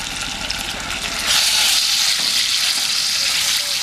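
Chicken pieces frying in hot oil in a wok on a high flame, a close, loud crackling sizzle that swells stronger partway through as they are tossed and stirred.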